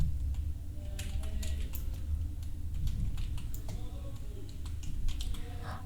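Rapid, uneven clicks of typing on a computer keyboard, steady keystrokes with short pauses, close and clear over a low room hum, no talking.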